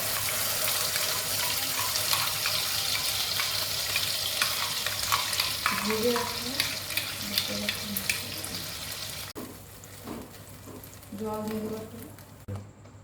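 Ground spice paste frying in butter for paneer butter masala, a close sizzle with scraping stirs of a spoon in the pan that fades toward the end, where a voice speaks briefly.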